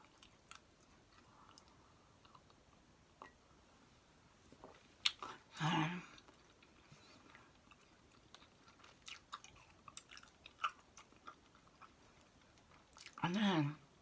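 Bubble gum is chewed close to the mic in a quiet setting, with soft moist clicks and two louder crackling bubble pops or snaps, the mouth sounds sparse and intimate against near silence.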